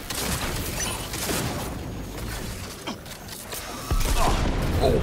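Missiles slamming into a roof during a boss fight in Cyberpunk 2077, a rapid volley of sharp impacts and bangs with rattling debris, rising to a heavier burst near the end.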